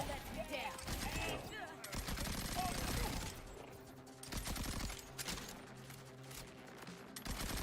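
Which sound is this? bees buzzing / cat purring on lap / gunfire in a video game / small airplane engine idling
gunfire in a video game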